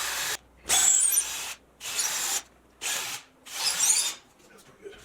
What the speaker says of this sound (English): here I am drilling real carefully from one side to the other